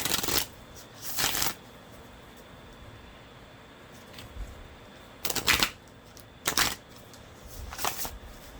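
Tarot cards being shuffled by hand in several separate quick riffling bursts, crisp and close, with quiet pauses between them.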